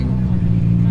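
An Infiniti Q60 with a carbon hood at a Halloween car meet gives a deep, steady engine rumble close by, with voices mixed in over the low idle.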